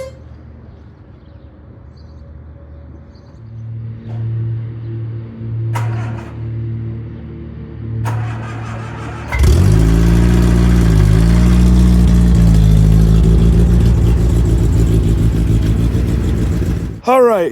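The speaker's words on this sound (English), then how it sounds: "warm it up, shut it on, shut it off" A 1976 MG Midget being revived: a starter cranks in short bursts, the small engine fires and settles into a loud, close idle, then revs up and down before stopping abruptly; someone talks during the cranking.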